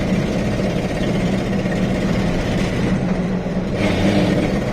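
The engine of a 1973 Datsun 240Z series 2 runs rich while its carburetors are being tuned, a steady, loud, low rumbling drone that holds throughout with no talking.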